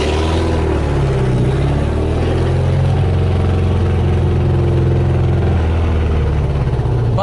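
A VW Beetle (Fusca) air-cooled engine runs steadily at close range while its fuel mixture is adjusted, a continuous loud throbbing drone with slight changes in pitch and no clear talking over it.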